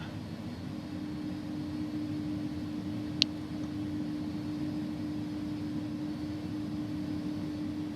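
Airliner engines of an iniBuilds A310 in a flight simulator, a steady droning hum with a constant tonal whine, held level throughout, with one brief faint click near the middle.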